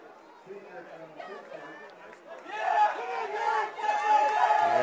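A crowd at a high school boys and girls track and field final rises in cheers and shouts, the roar building louder partway through, while an announcer talks over the stands.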